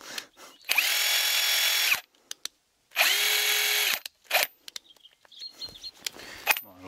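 Cordless impact wrench running in two loud bursts of about a second each, close by, with short clicks and birds chirping faintly in the pauses between them.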